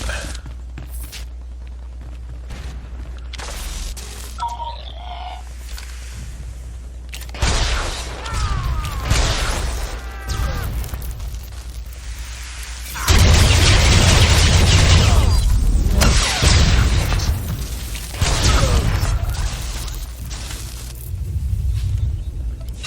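Rocket launched and detonating in a combat video game on Balmora, heard as a deep boom with rumbling aftermath and mechanical clatter, alone and fairly loud, with a quieter stretch before the blast.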